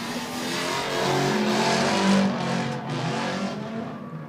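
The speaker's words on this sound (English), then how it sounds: "Mustang's looking really good towards that outer zone straightening there." Ford Mustang drift car at a professional drifting competition, its engine roaring loud and steady under load with rising revs and faint tire squeal, heard from trackside.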